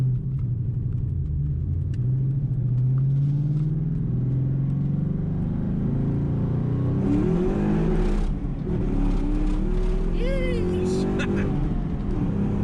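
A 2000 Ford Mustang GT making about 300 wheel horsepower, after an IAC valve replacement, rumbles at idle with a steady, throaty low drone close by. Its pitch lifts and wavers slightly toward the end.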